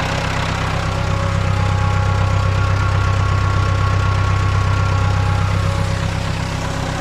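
Mustang 285 tractor driving a 75 kVA synchronous generator through a four-belt system, powering a 15 hp submersible well pump; a steady, loud, close diesel drone with a constant knocking rhythm throughout, no voices.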